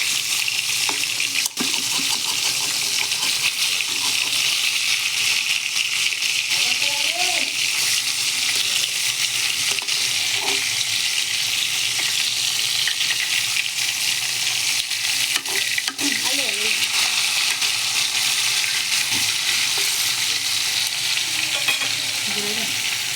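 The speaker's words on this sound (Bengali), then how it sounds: "আপনারা দেখতেই পারতেছেন ইলিশ মাছ ভাজা হচ্ছে।" Hilsa fish frying in a pan, a steady loud sizzle of hot oil that runs unbroken throughout, with occasional stirring or utensil clatter and no one speaking.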